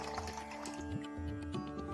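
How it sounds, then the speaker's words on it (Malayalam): Water poured into a pot to make Irani tea in a home kitchen, a steady liquid fill with small splashing variations throughout, no talking. "നമുക്ക് ചായക്ക് ആവശ്യത്തിനുള്ള വെള്ളം ഒഴിച്ചു കൊടുക്കാം."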